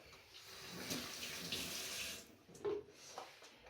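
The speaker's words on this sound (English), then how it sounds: "we're gonna wash our hands" Hands being washed under a running kitchen tap before baking, with a soft, steady stream of water splashing into a sink. It is faint and continuous, with a brief louder splash near the end and no voices.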